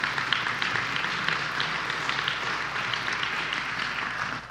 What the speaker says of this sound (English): So I can get a round of applause for that for them.